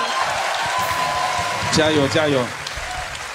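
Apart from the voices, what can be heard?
audience applause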